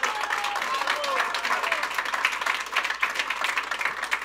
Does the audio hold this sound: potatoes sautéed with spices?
no